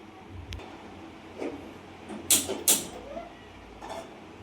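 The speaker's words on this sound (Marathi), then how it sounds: "कढई ठेवून घेऊ गॅसवर." A metal kadai is set down on a gas stove, with two sharp metallic clanks close together in the middle, a few lighter knocks before and after, and quiet kitchen background between them.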